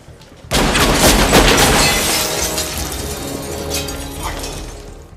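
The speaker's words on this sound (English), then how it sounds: "Shots are fired." Gunfire in a film crime scene, a sudden loud burst after a quiet start, followed by sustained crashing, shattering noise that slowly fades over several seconds.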